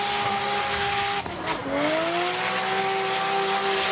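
A drift car at full throttle during qualifying at Okayama International Circuit: a loud, sustained engine howl with squealing tyres that dips briefly during a shift, then climbs again, close by.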